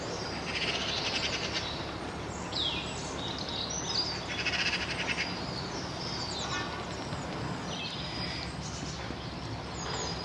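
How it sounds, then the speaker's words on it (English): Birds chirp and call in scattered, faint bursts over a soft outdoor hush beside a winter canal where narrowboats are moored. "Just listen to the birds."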